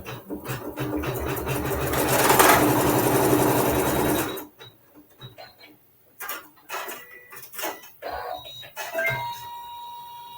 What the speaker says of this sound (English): we'll sew the tack down